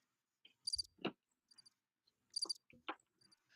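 Sparse cricket chirps, a few short high trills separated by silence, faint and alone with no talk, used as a sound effect.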